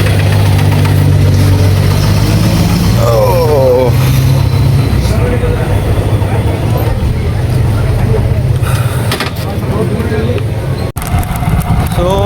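A motorbike engine runs steadily throughout, a loud close rumble that shifts in pitch as it revs, with a person talking over it at times.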